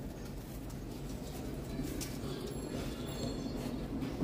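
A male pigeon coos low and steady at a pigeon seller's loft, a soft continuous murmur with a little faint background noise and no talking.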